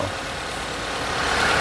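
Mitsubishi Lancer GL engine idling roughly with a misfire after overheating: a steady, close mechanical hum and broadband whir, slowly growing slightly louder, no talking over it.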